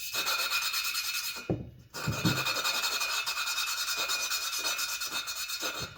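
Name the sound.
honing engine cylinder block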